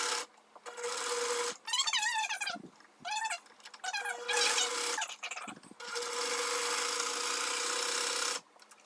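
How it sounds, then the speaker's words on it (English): Sewing machine stitching together a fabric chicken saddle, running in several separate bursts of steady whirring, some short and one long stretch, close and fairly quiet, with brief pauses between them. "So now I'm going to start sewing it together."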